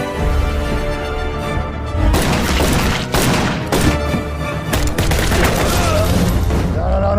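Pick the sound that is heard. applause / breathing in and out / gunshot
gunshot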